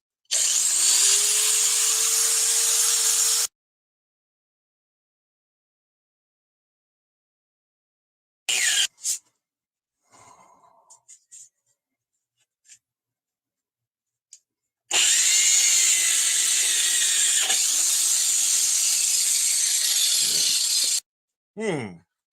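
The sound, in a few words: power tool grinding a stain on a jacket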